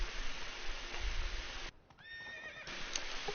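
Roach, Geralt's horse in The Witcher 3 video game, lets out a loud, close whinny with a rising, wavering tone, preceded by soft hoof clip-clops and surrounding game ambience.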